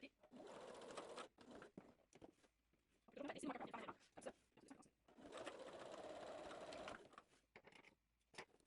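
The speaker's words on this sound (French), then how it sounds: "on va venir faire une surpiqûre sur les trois côtés, sauf la partie qui a le cran" A sewing machine topstitches fabric for a belt bag in close, steady whirring runs broken by short pauses, while a voice talks quietly over and between them.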